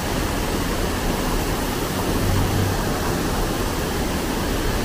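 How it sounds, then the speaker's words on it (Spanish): Water pours steadily from a waterfall on the San Antonio River in Texas, heard from directly underneath: a dense, even roar that fills the whole clip without pause, with no voices. "debajo de la cascada."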